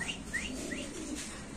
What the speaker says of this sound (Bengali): এখানে আছে দুই জোড়া ডেনিশ কবুতরের বেবি